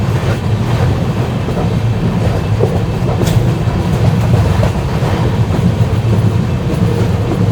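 Simhadri Express train 17239 runs at high speed, a loud, continuous close-up rumble with rhythmic wheel clatter that holds steady throughout, with no voices.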